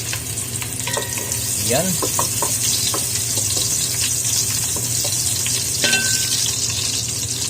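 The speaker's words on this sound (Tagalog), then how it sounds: "Ayan, minute na yung mantika. Lagay na yung sibuyas." Onion sizzles and fries in hot cooking oil throughout, a steady close hiss with a few stirring clinks and a brief voice over it.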